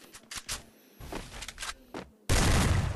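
Gunfire in a shooter video game: sharp bursts of rapid shots, some close and punchy, ending in a loud sustained volley.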